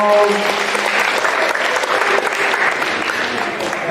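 An audience gives sustained, loud applause as a knight enters a school assembly, steady clapping filling the whole stretch with some voices underneath.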